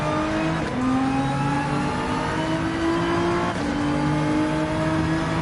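A Porsche 911 race car engine in the Gran Turismo 7 video game drones loudly and steadily, its pitch rising through the gears with brief dips at shifts, continuous and close.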